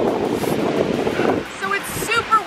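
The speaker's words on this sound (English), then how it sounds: "So it's super windy." Strong wind on Zuma Beach buffets the microphone with rough low rumbling, easing partway through as faint higher sounds come through.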